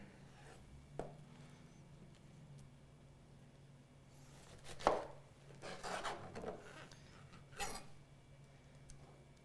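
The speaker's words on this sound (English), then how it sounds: "Now carefully quarter your pineapple through that core." A knife cuts through a pineapple on a board, quartering it through the core in a few distinct, close, crisp chopping thuds with pauses between them in an otherwise quiet kitchen.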